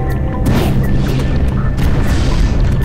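Shots and impact booms from the video game Jak and Daxter: The Precursor Legacy, heard as loud, dense, rumbling blasts that fill the whole moment with no gap between them.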